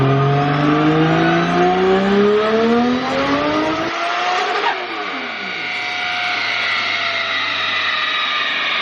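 A 2JZ-powered Nissan S15 drift car revving hard on nitrous, probably on a dyno: a loud, rising engine howl that climbs for about four seconds, then cuts off and falls away into a lower, whining decay, with someone talking over it.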